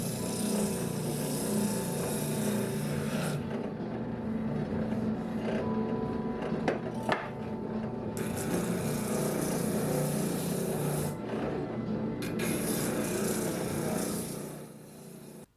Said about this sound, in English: When dealing with really tight concave curves, I find using the oscillating spindle sander really indispensable to truing up the shape.